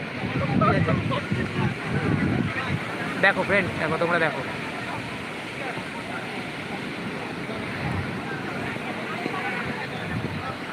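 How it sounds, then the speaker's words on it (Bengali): Sea waves at Puri beach make a constant broadband roar that sits loudly beneath a person talking excitedly over it. "খুব সমুদ্রের আওয়াজ হচ্ছে"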